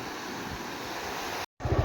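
Water flowing in a village river beside farm fields, a steady broadband rush close to the microphone with some wind buffeting, briefly cutting out near the end before resuming.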